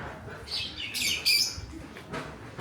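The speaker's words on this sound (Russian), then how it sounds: "Привет, волнистые попугайчики." Budgerigars chirp and squawk in short bright bursts, several overlapping calls close by with a faint background hum.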